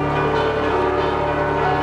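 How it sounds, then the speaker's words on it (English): Church bells peal steadily at the basilica of the Virgin of Zapopan in Jalisco, Mexico, during a huge religious procession, a dense ringing wash that stays loud throughout. "the constant pealing of the bells"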